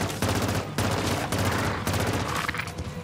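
Rapid hip-fire gunshots from a weapon in MW3 Zombies, a steady loud burst of automatic fire with two brief pauses, close and dense throughout.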